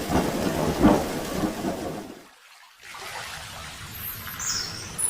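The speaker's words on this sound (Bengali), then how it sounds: "রাত্রেও বৃষ্টি হলো খুব অবিশ্রান্ত জলধারা সারা রাত এক টানা চলল" Heavy rain pours at night in a loud, dense rush with a low rumble, cuts out briefly midway, then returns as a softer steady hiss with a few high bird chirps.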